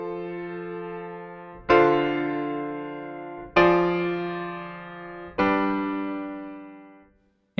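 An imperfect cadence played as a short run of three or four sustained piano-like chords, each struck firmly and left to decay, the progression stopping on chord five with an unresolved feel.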